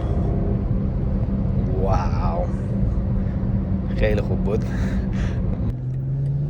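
A BMW car driving in sport mode gives a steady, low engine rumble throughout, with someone talking over it.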